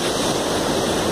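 Surf on the sand at Praia da Barra beach, a steady broadband wash of breaking waves that stays loud and even, with wind roughness and no voices.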